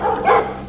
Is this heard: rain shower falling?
no